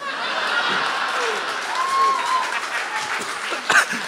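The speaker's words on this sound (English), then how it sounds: "And you applaud for your favorite color." Audience applause and cheering from a live comedy podcast crowd at the Tin Roof in San Diego, a steady broad wash of clapping that swells near the end, with some laughter mixed in.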